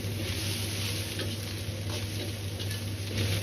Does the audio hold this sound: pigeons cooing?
no